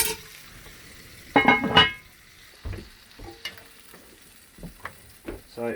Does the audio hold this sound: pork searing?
yes